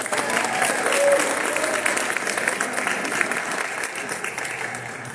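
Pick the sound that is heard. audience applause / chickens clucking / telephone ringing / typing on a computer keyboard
audience applause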